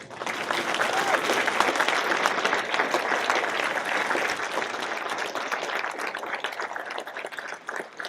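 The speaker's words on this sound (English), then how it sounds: "Let's give them another round of applause." A crowd at an awards evening applauds honorees with sustained, dense clapping that holds loud and steady before easing slightly toward the end, with a voice faintly under it.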